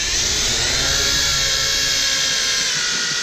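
A Parrot Bebop drone flies nearby with a steady, high-pitched electric whine from its spinning propellers, holding a constant loud buzz throughout with no voices.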